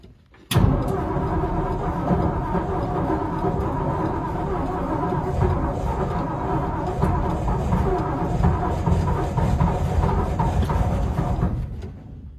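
Starter cranking on a 1963 Ford F-100 engine, catching abruptly and then running with a rough, loud, steady rumble close by until it cuts off near the end.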